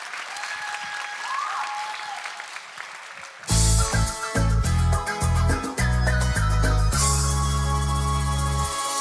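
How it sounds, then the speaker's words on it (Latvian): Audience at a New Year concert applauds briefly before loud music with a steady beat starts up and takes over, drowning the clapping. "Skaļākus aplausus!"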